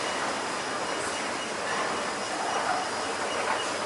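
An MRT subway train in an underground station in Singapore, heard as a steady, loud broadband roar and hiss that holds without a break throughout, with no talk over it.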